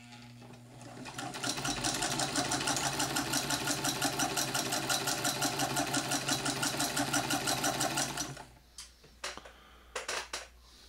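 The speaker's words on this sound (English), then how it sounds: "Another classic sewing machine" A 1918 Singer 127 Sphinx sewing machine stitches in a fast, even rhythm of rapid mechanical beats, running loud and close for several seconds before stopping, followed by a few separate clunks and rattles.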